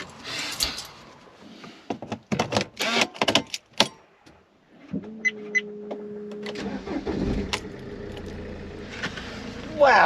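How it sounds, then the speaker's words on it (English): An RV engine is cranked and fires up, settling into a steady mid-pitched idle after some jangling keys and footsteps; the start-up comes about halfway through and holds close and moderately loud. "Let's crank up the engine and see what happens."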